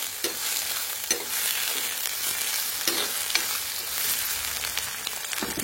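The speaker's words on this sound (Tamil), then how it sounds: "ரெண்டையும் நல்லா வதக்குறேன்." Capsicum and ridge gourd sautéing together in a pan, a continuous close sizzle broken by repeated scraping stirs of a spoon at irregular intervals, no voices.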